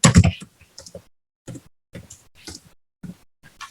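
Keystrokes on a computer keyboard while entering text into a WordPress editor, a quick dense burst of clicks at the start followed by short, scattered groups of taps with gaps between them, close and fairly quiet.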